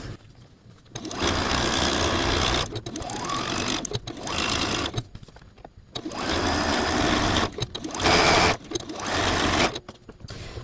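A sewing machine stitches around a snowman quilt shape in several bursts of close, buzzing motor whir separated by short pauses, with no talking.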